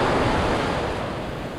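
Ocean surf on a Florida beach at Manasota Key washes steadily up the shore in a continuous loud, broad rush with no voices, close to the water's edge.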